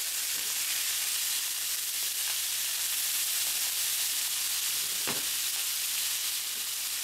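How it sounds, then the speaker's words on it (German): Rump steaks sear in a hot frying pan, giving a steady, close sizzle that runs unbroken throughout, with a brief clack of the meat being handled near the end and no talking. "das Fleisch habe ich jetzt noch einmal gedreht und noch mal ganz kurz gebraten"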